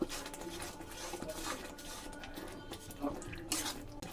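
A spice masala mixed with sesame and peanut paste is stirred in a pot for a meat curry, with quiet scraping and clinking of a utensil against the pan and a faint sizzle underneath.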